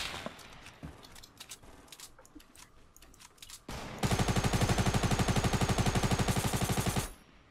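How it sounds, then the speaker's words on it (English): Fortnite gunfire: scattered faint clicks and shots give way to a loud, rapid automatic burst of evenly spaced rounds lasting about three seconds before cutting off. "Let me shoot that down."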